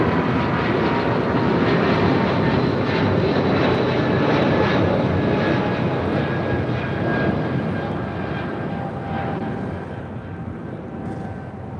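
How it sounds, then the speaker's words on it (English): A United Airlines Boeing 777-200ER takes off at LAX, its jet engines a loud, continuous roar that slowly fades as it climbs away. "That was United Airlines flight 2096 heading to Newark in that 777-200ER."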